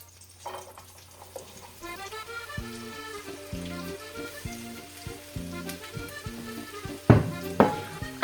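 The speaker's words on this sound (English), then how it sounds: "stir the sliced onions into the hot oil butter mix" Sliced onions frying in a hot oil and butter mix give a steady soft sizzle, broken by clinking stirs of a utensil against the pot and a couple of sharper scraping knocks near the end.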